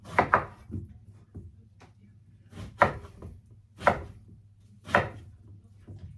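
Four or five heavy knife chops through winter melon on a cutting board, spaced about a second apart, close and distinct over a low background hum.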